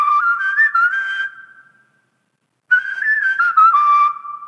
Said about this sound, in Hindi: इस गाने में इन्होंने फ्लूट का साउंड, और ये फ्लूट एक सैंपल है कश्मीर का.